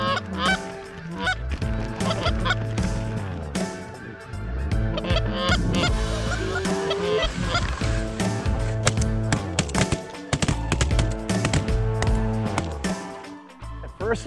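A flock of geese honks loudly and continuously while coming in over a decoy spread during an early-season goose hunt, many overlapping calls rising and falling close by.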